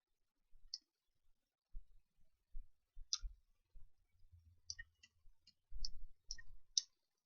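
A computer mouse clicks sparsely and then in quicker bursts during tedious UV texture-mapping work, small close taps separated by short pauses, with no voice over them.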